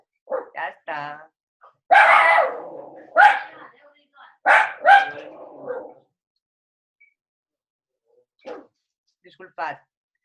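Several dogs bark in loud, close bursts at someone at the door, then quieter yips and whimpers follow after the barking dies down, with gaps of silence between.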